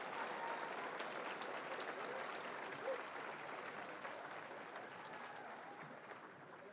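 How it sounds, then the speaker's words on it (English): Graduation ceremony audience applauding for honored students in a hall, a steady, broad wash of many hands clapping that holds throughout and fades slightly at the end, fairly distant and faint. "Please join me in rewarding our Committed to Lead students with a round of applause."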